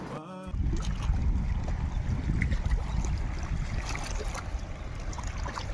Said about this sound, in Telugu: ఆ వేవ్స్ సౌండ్ పెడతాను, వినండి.